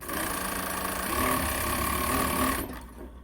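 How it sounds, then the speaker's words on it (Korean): A coverstitch sewing machine stitches functional fabric at an unchanged thread tension, giving a steady, fast mechanical whir for most of the clip before it stops near the end. "장력은 그대로 두고 테스트 재봉을 해 보겠습니다"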